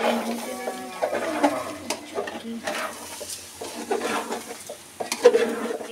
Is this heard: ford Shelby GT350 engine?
no